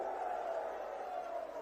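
A large crowd at a political rally at Ramleela Maidan gives a sustained roar of applause and cheering that holds steady and dense throughout the moment.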